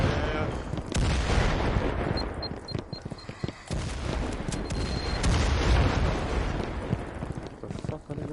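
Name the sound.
grenade explosions and gunfire in a video game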